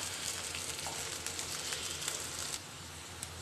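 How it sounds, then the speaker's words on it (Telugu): Capsicum and cabbage frying on a high flame while cabbage veg manchurian is made, a dense even sizzle with faint light taps of stirring, close and steady, with no voice. "ఇది కూడా 1 నిమిషం ఫ్రై చేసుకోవాలి."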